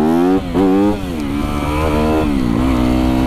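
A Yamaha YZ 250FX supermoto revs hard while being ridden. The engine note is loud and close, with quick throttle blips and rising and falling pitch.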